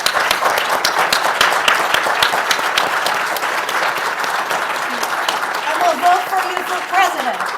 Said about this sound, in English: I think we should give a huge round of applause to our mayors.